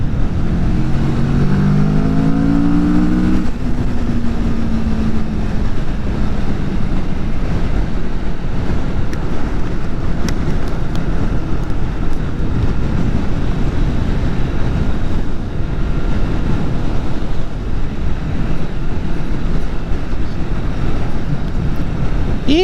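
A 2020 Kawasaki Vulcan S motorcycle on the move, its engine droning loud and steady under heavy wind rush, with a brief rising rev near the start.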